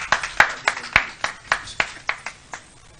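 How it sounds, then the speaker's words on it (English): Scattered handclaps from a small audience at a Save Ghana Now press conference in Ghana, a dozen or so sharp, uneven claps over about three seconds, fairly close, with no talking over them. "Round of applause for Raymond and his team as they join us."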